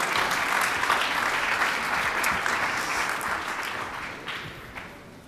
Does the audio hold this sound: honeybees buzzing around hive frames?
no